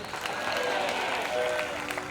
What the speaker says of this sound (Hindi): तो ताली बजा के आमीन बोलिए